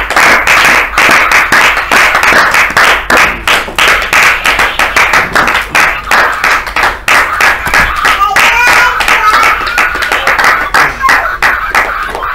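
A church congregation claps loudly and steadily after an evening sermon, a dense rhythmic applause of many hands close by that runs the whole time, with faint voices mixed in.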